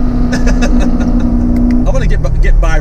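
A BMW M4 engine revving while driving through canyons, loud and close, with a sustained growl that drops in pitch and then climbs again, partly under a voice.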